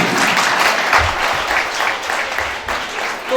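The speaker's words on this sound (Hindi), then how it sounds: "एक बार माननीय प्रबंधक सर श्री ऋषिदेव वर्मा जी के लिए जोरदार तालियों से स्वागत कर दीजिए" A school audience at an award distribution claps loudly to welcome the school manager, steady applause that runs the whole time and is close and full with no clear speech.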